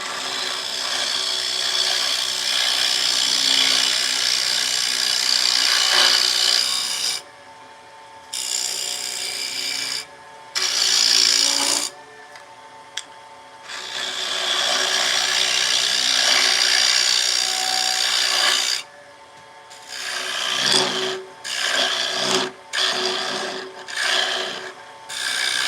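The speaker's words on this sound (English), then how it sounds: "I love the lathe" Wood turning on a lathe, a continuous loud rasping scrape of a tool cutting spinning wood, broken by several short pauses and then choppier bursts of cutting toward the end.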